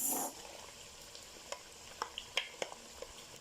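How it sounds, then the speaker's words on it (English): Blended dawadawa is stirred into a jollof sauce frying in a pot, giving a faint sizzle with a splash at the start, then scattered light clicks and scrapes of a spoon. "At this point, we are going to add blended ingredients to it."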